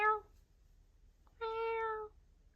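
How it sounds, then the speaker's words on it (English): A cat meows twice, a short cry and then a longer, clear drawn-out meow, close to the microphone in a quiet room. "Oh, baby cat."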